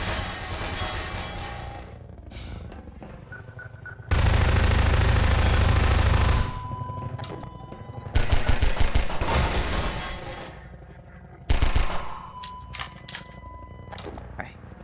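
Gunfire bursts from the video game Half-Life 2: loud, dense rapid volleys in several separate bursts, one long sustained stretch and shorter ones, mixed with game sounds and speech.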